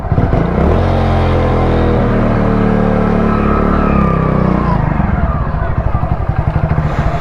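A Hero Splendor motorcycle is ridden past, its loud, close engine droning and revving steadily before settling into a rapid, pulsing idle-like putter toward the end.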